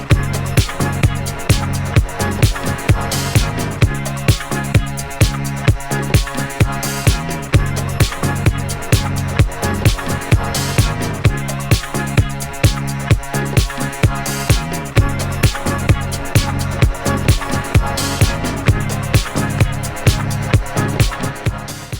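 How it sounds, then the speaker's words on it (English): Phoenix's debut single Heatwave, a French touch dance track, plays loud and continuous with a driving four-on-the-floor beat and layered synth and bass lines. "they actually made their first ever single was a French touch track, and it's called Heatwave"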